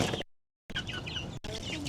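A frightened chicken clucking in a few short, close, loud bursts, broken by a brief gap of silence.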